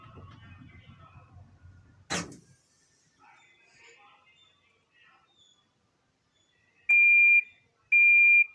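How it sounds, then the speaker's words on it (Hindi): A Haier automatic washing machine sounds its end-of-cycle buzzer after a bedsheet wash: two clear, steady electronic beeps about a second apart, loud and close, following faint murmuring and a single sharp clack. "हमारी मशीन ने बज़र दे दिया है।"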